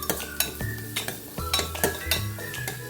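A spoon stirs and scrapes ground fresh coconut in a cooking pan, giving repeated scraping strokes and light metallic clinks with a faint sizzle underneath, close and clear with no talking.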